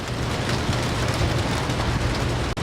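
Steady, dense rain falls outdoors, a loud continuous hiss of drops hitting surfaces with no pauses and a brief dip at the very end.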